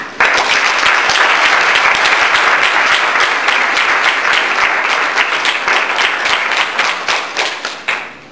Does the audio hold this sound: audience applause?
yes